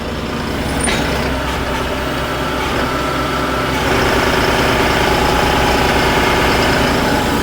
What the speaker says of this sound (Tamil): டிராக்டர் என்ன ஆர்பிஎம்மில் ஆப்ரேட் பண்ணுறாங்கன்னு பாருங்கள்